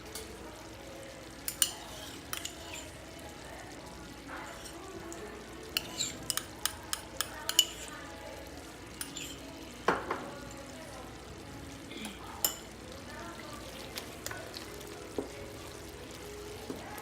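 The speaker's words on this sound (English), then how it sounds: "Mix it up, make sure it gets everywhere." Tomato paste is stirred into oxtail stew frying in a pot, a soft sizzle under scattered sharp scrapes and clinks of the utensil against the pot, fairly quiet overall and with no talking.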